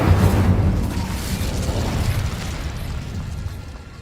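Fire spell cast in Hogwarts Legacy, a loud whooshing burst of flame that flares at the start and then rumbles and crackles as it fades over a few seconds, with no talk.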